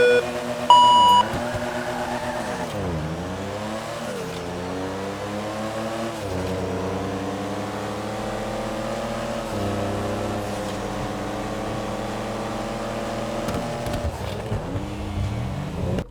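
Porsche and Mercedes sports cars (Pfister vs Benefactor) racing in the video game GTA 5, with a beeping countdown followed by loud, steadily revving engines whose pitch climbs and drops through repeated gear shifts for the whole stretch.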